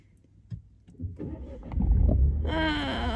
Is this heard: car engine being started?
yes